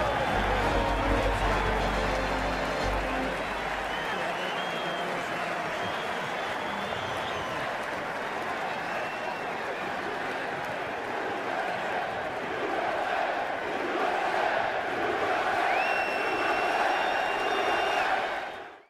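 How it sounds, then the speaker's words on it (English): A stadium crowd roars and chants just after the president's first pitch: a dense, loud, continuous wall of cheering and massed voices that holds steady throughout. "As soon as the president finished the pitch, everyone's chanting USA, USA."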